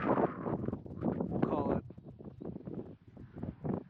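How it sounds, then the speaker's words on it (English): Wind gusts at a windy New Zealand campsite, buffeting the microphone in rough bursts beneath someone speaking close by. "It's really windy, but it's beautiful."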